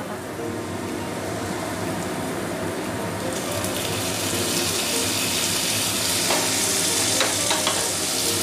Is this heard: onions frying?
yes